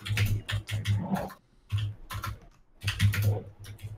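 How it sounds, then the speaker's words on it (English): Rapid bursts of keystrokes on a mechanical computer keyboard, loud and close, coming in three clusters separated by short pauses, with no voices. "it's my keyboard. So I'm using mechanical keyboard"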